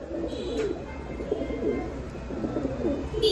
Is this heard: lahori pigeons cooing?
yes